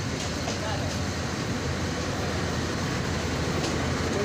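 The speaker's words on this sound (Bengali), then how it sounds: "চলে যাচ্ছে ইন্টারসিটি ট্রেন, নিউ ট্রেন, বাংলাদেশের একটি ঐতিহ্যবাহী ট্রেন।" An intercity train in Bangladesh, near Bahadurabad Ghat, passes close by as a steady, dense rumble and clatter that holds at full loudness throughout without a clear start or fade.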